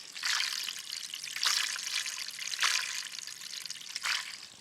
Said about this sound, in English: I've turned the water on up here, and you can actually hear at this joint where it's flowing through.